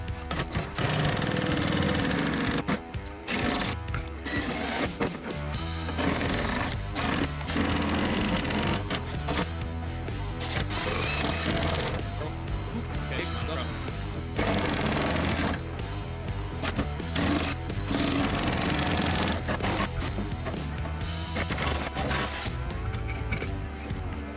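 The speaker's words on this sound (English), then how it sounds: "So I'll just start going with my sheet metal nibbler and just trying to stay on this side of it," A sheet metal nibbler cuts through sheet metal during the revival of a 1985 Nissan 300ZX Turbo, giving a loud, continuous rapid mechanical chatter with brief stutters and pauses, close up and with no talk.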